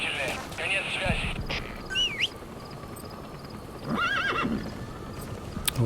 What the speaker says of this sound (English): ¿dónde salió el caballo?